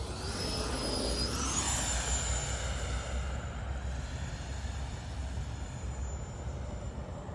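An FMS 64mm F/A-18 Hornet RC electric ducted-fan jet on its first flight makes a loud whooshing whine as it passes, its pitch sweeping down as it goes by. The roar then fades to a steady rushing sound as it flies off.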